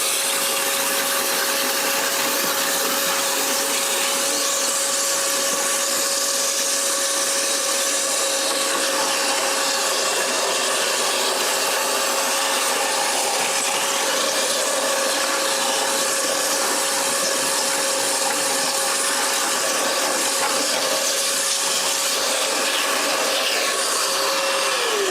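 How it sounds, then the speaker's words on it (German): A vacuum cleaner sucking dust from the filter of a Canaan Avalon Q home miner, a loud, steady, continuous whine with a constant high tone and no talking. "Und jetzt geht das Ganze im Prinzip relativ einfach, dass man sagt, okay, saugen wir das Ganze ab."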